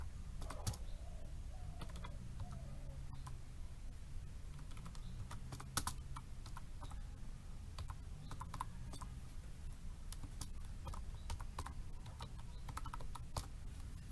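Continuous keyboard typing throughout, a steady patter of close key clicks with occasional sharper taps, as text is entered on a computer keyboard during a basic Microsoft Office word-processing lesson.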